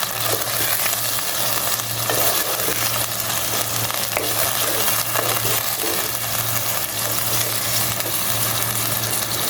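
Beef with ginger-garlic paste and salt sautés in a pan for a beef kathi kabab, a loud, steady, close sizzle with faint stirring scrapes throughout and no talking.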